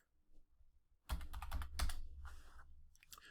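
Someone types a short value on a computer keyboard, a quick, close run of light key clicks lasting about two seconds, faint against a quiet room.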